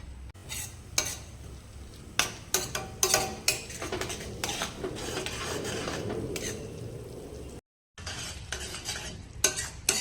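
Sev and onion curry being stirred with yogurt in a pan, a spoon scraping and clinking against the metal in steady repeated strokes over a faint sizzle, with one brief gap near the end.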